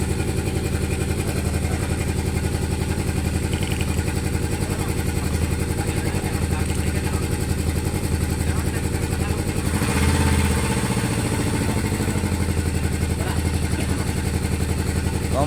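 A jet ski engine runs loud and close throughout, a steady mechanical drone that swells into a brief surge near the middle before settling back to an even idle.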